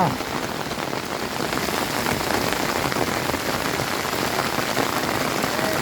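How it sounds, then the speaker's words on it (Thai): Heavy rain pours down steadily outdoors during a fishing session, a dense, loud, continuous hiss of drops striking surfaces with no break. "ฝนก็แรงครับ ฝนก็แรง"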